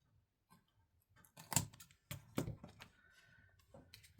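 Scissors snipping through a coloring book page at a desk, a few quiet sharp cuts and paper rustles in a hushed room.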